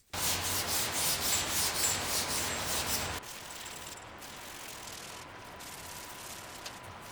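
Guide coat is sanded on a BMW E30 body panel with rapid, close scratchy strokes that are loud at first, then continue as a quieter, steady rubbing.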